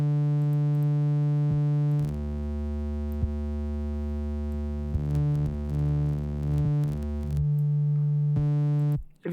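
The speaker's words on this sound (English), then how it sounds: "the frequency shifter has built-in ring mod. So if I have this going here, I can create any sound I want to and do ring mod with this triangle wave here." Triangle wave ring-modulated by the FL Studio frequency shifter: a steady synthetic tone with harmonics that shift and split in stepped pitch changes, punctuated by brief clicks, continuing for several seconds before cutting off.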